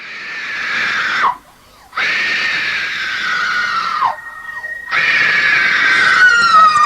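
A person screaming in a horror movie: loud, sustained high shrieks in three long bursts separated by short pauses, the last rising and wavering, with no talk over them.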